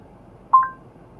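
Two short touch-tone beeps sound in quick succession as a phone call is dialed through Android Auto, clear and close against a quiet background.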